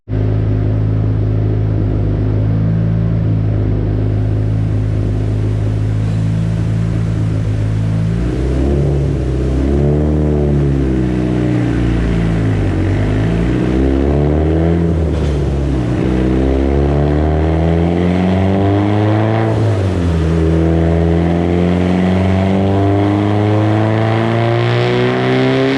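Mitsubishi Evo 8 with a turbocharged 4G64 engine, GSC R2 cams, BorgWarner 9174 turbo and 35 psi of boost, pulls hard through the gears. Loud, rising engine roar climbs steadily, drops briefly at each shift, then climbs again.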